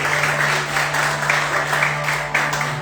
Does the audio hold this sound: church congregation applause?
yes